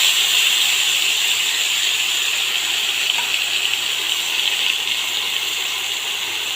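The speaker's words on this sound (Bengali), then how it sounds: "এটা এখন আমি এই মশলাটা তেলের মধ্যে দিয়ে দিচ্ছি।" Poppy seed, mustard and chili spice paste hits hot oil for a Bengali bhola fish curry, giving a steady, loud frying hiss that holds evenly throughout with no talking.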